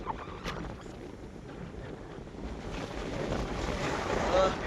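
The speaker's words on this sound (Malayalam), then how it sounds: "അപ്പം നല്ല കാറ്റുണ്ട് കേട്ടോ" Strong wind roars steadily against the microphone at the Thampuran Para hilltop viewpoint in Thiruvananthapuram, rising slightly toward the end, with no clear voices.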